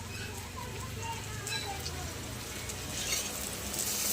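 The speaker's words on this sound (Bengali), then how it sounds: "এই যে রান্না করছি, উচ্ছে ভাজছি, উচ্ছে।" Bitter gourd fries in hot oil in a home kitchen, a steady soft sizzle with light crackles and occasional stirring, heard close while a person talks over it.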